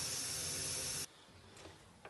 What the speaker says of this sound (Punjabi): ਪ੍ਰੈਸ਼ਰ ਆਪਣੇ ਆਪ ਨਿਕਲਦਾ ਰਹੂਗਾ